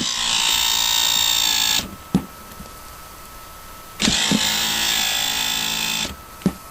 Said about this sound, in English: Yep. It's cranking.